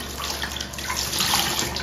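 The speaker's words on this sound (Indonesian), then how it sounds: "Kita guyur sekali lagi biar bersih. Kita siram, kita siram." Water is poured and splashed over a dirty Ondel-ondel mask to wash it clean, a loud, close and continuous splashing gush.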